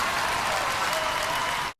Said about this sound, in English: humongous round of applause